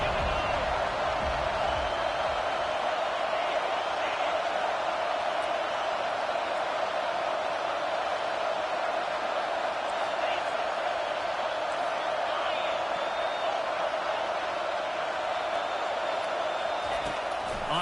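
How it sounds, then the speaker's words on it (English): A home crowd roars in an NCAA 25 college football video game, a steady, dense wall of cheering that holds at constant loudness throughout, with a commentator talking over it. "how nice is it to have the home crowd going absolutely bananas"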